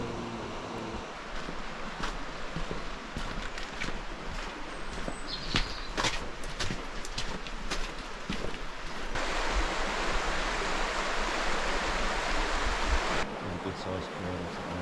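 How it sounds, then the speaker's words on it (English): A small river near the headwaters of the Elbe in Bohemian Saxon Switzerland flows with a steady broadband rush, with some scattered knocks and handling sounds, and the water swells a little louder toward the end. "This small river is actually part of the headwaters for the mighty Elbe."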